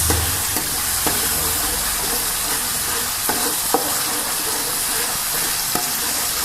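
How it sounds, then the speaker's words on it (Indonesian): Spicy chicken feet (ceker mercon) sizzle in a frying pan while being stirred, a steady loud hiss of frying with occasional scraping clicks of the utensil. "Kita aduk dulu guys."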